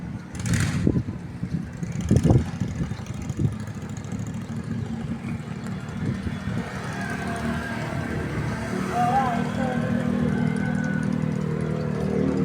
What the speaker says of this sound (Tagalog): Ayun o, meron na siyang truck.